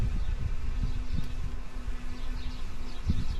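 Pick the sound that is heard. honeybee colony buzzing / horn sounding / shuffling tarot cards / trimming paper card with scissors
honeybee colony buzzing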